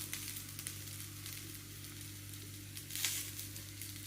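Okra sizzles steadily in a hot pan, a continuous broadband frying hiss with a brief louder flare near the end, heard alone without talk.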